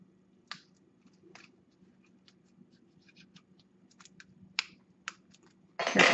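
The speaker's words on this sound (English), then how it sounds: "Careful not to damage the cards, pulling this plastic off." Plastic wrapping being peeled off a stack of fortune cards: scattered crinkles and sharp snaps at irregular intervals in a quiet room, ending in a louder sustained rustle.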